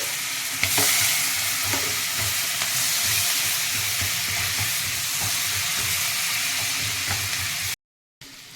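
Chopped onions and green chillies sizzle loudly in a pan with whole garam masala spices for bagara rice, a steady frying hiss with occasional stirring scrapes, briefly cut to silence near the end.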